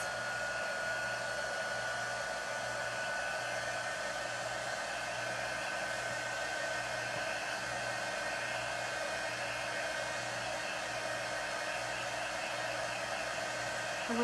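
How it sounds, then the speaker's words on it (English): A handheld hair dryer blows on a craft item, giving a constant loud whooshing roar with a steady motor whine for the whole stretch and no talking. "So I'm gonna dry this."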